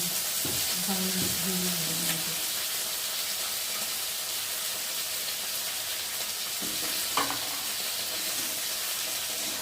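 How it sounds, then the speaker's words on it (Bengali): Potatoes fry in hot oil in a wok, making a continuous loud sizzle and hiss, with a few brief scraping stirs near the start and again partway through. "আলুটা একটু ভালো করে ভেজে নেবো"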